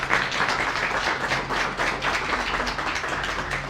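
An audience applauds to welcome a speaker at a municipal administration training session, with dense sustained clapping that stays loud and even throughout.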